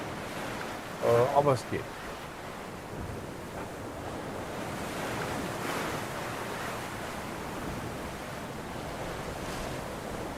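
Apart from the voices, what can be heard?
high ocean waves and wind while sailing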